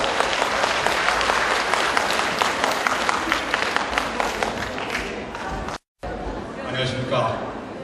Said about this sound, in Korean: 강사님을 큰 박수로 맞아주시기 바랍니다.